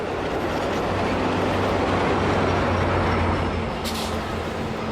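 Passenger train number 768, lengthened to 12 cars, rolls past on the Del Mar coastline with a steady broad rumble and low hum that hold throughout, plus a brief higher hiss near the end.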